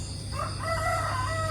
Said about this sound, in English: You wake up to the sound of the roosters.